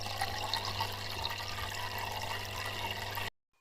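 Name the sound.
flowing water babbling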